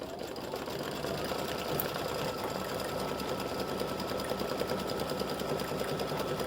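An embroidery sewing machine runs a narrow zigzag stitch over applique fabric on a St Patrick's Day gnome design, a fast, even, continuous mechanical buzz with rapid needle ticking, close and steady throughout.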